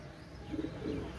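Soft coos of Kamagar pigeons, a couple of low throaty calls close by, over a quiet background.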